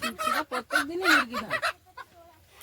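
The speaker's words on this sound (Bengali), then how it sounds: "এখন দীপশিকা মুরগি ঘরের মধ্যে ঢুকে মুরগিগুলোকে বার করে দেবে" Chickens cluck in a busy run of short, clipped calls close by, with brief rising squawks, then it settles into quieter scattered clucks.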